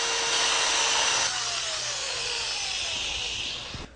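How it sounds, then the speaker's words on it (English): A flexible sanding disc works the bottom and sides of a wooden bowl's interior, a close, whirring abrasive hiss from a spinning power tool that fades slightly as the motor winds down at the end. "Sand the bottom and sides of the bowl to remove any machining marks left behind by the router bit."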